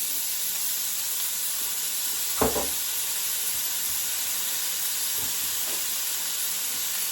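Chopped onion tipped into a hot pan for round steak stroganoff, giving a steady hissing sizzle throughout with a brief louder burst as the pieces land, no talking.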